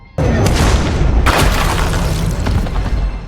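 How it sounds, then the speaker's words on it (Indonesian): A loud gunshot blast in an action film, with a sharp onset followed by a second report about a second later and a long, booming tail. Faint speech may sit underneath. "ternyata yang menembak adalah Jabal."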